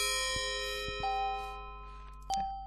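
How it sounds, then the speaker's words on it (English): A chime-like doorbell in the Castle of Dr. Brain computer game rings a few clear metallic dings over a steady electronic hum, with another bright ding near the end. "let's be cordial and just ring the doorbell"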